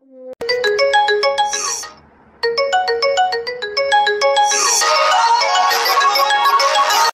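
A mobile phone ringtone plays a bright, repeating melodic pattern of electronic tones, pauses briefly, then starts again and swells louder, with no one speaking over it.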